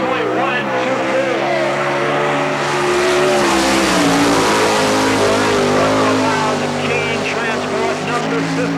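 Sprint cars race on a dirt oval at Selinsgrove, Pennsylvania, number 53 among them, engines roaring loud and sustained with rising and falling revs as the cars lap past, a commentator talking over the noise.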